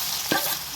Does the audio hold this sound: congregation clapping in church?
no